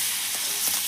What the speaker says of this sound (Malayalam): പപ്പടം പൊരിക്കട്ടാ